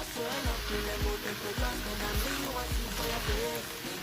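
Mixed vegetables with mung bean sprouts and red, orange and yellow bell peppers cooking in a pan, sizzling steadily with repeated soft scraping stir strokes at a regular rhythm.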